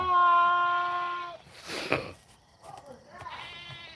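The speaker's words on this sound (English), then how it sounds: "That's just one goat, man." A single goat gives a loud, wavering bleat up close, followed by rustling and a few softer, fainter sounds.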